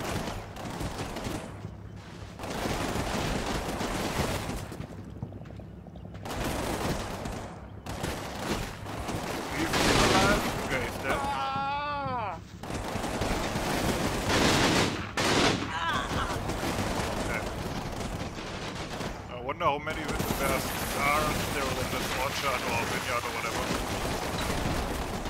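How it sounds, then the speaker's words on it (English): Tank machine guns rattle in bursts of rapid fire in the war game Combat Mission, with someone talking over much of the shooting. "Machine gun fire from the tank to see if anybody pops up"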